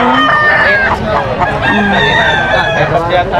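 Rooster crowing up close at a gamefowl farm, a loud drawn-out call with more clucking and crowing behind it while someone speaks over the birds.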